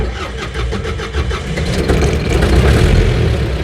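T-40 tractor engine cranking and catching in cold winter weather, a rapid chugging start that settles into a loud, rough, steady idle rumble close by.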